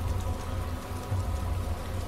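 Steady, moderate rain falls in the survival game DayZ, a soft constant hiss of drops with no breaks and no voices.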